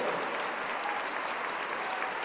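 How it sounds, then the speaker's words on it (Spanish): A church congregation at a Catholic prayer event applauds steadily, a dense wash of hand claps filling the whole moment without pause. "Fuerte el aplauso para el Señor"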